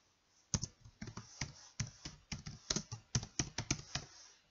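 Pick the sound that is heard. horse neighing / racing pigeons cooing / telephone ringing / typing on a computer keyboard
typing on a computer keyboard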